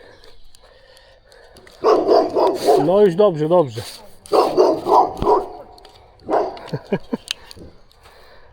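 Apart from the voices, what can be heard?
dog barking angrily at a playground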